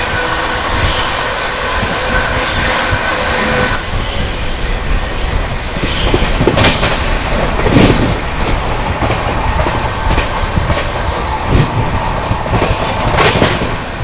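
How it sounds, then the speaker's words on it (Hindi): Shiv Ganga Superfast Express overtaking another train near Chandari railway station: a loud, continuous rumble with wheels clattering over rail joints in irregular bursts, brief squeals, and a rising passing roar. "क्या ओवरटेक मार रही है भाई, क्या ओवरटेक मार रही है अपनी शिव गंगा सुपरफास्ट।"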